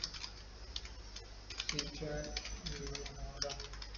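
Quick, light clicks of typing on a computer keyboard, the keys tapping in irregular runs as HTML code is entered, fairly close but soft, with someone talking over the keystrokes.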